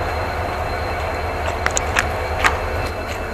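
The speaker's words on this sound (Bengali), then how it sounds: "দেখো মানাস রাইনো যাত্রীবাহী ট্রেন প্যাসেঞ্জার" The Manas Rhino passenger train stands at a platform of Barpeta Road railway station, with a steady low rumble and a few sharp metallic squeals and clanks, and no talking.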